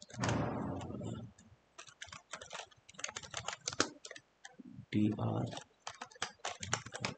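Rapid typing on a computer keyboard clatters in quick, uneven bursts of close clicks, with spoken explanation in Hindi coming and going between the runs of keystrokes.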